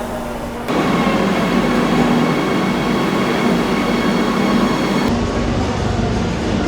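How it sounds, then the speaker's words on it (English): A high-speed Renfe train at Madrid's Atocha station gives a loud, steady rail rumble and hum that starts abruptly and holds close by throughout, with no voices. "here is where the high-speed train comes in and where you can leave from"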